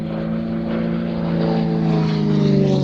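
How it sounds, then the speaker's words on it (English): Propeller drone from a light aerobatic touring airplane at an airshow, steady and loud, building slightly as it runs. "So this is a bit of a hybrid, really, an aerobatic airplane, but also a tourer."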